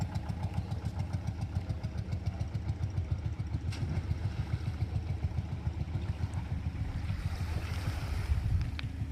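Boats motor across the sea off Havelock in the Andamans, their engines giving a steady, rhythmic chugging close by, mixed with wind and lapping water.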